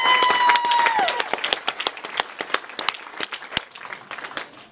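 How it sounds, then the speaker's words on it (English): A crowd at Port City Raceway, a sprint car racing track, breaks into applause for the staff, starting loud and dense and then thinning into scattered, fading claps. "can everyone please give a big round of applause to all the staff at Port City Raceway"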